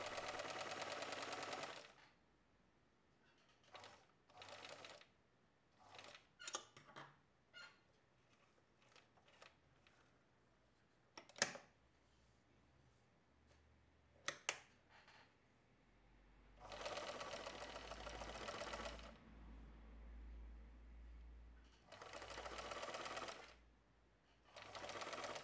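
A sewing machine stitches along a fabric edge in several runs, near and steady, with long whirring bursts separated by pauses and small handling clicks.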